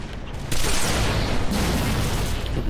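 Dense, rumbling bursts of gunfire and explosions come from a Halo: The Master Chief Collection match on PC. They sound close and loud and continue without a break.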